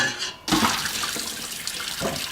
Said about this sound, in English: Pasta is ready, and we're going to drain.